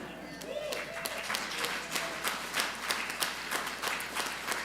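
A congregation at a Unitarian Universalist worship service applauds the dedication of a new elevator, a steady round of many hands clapping with a few sharper individual claps. Faint voices sit underneath.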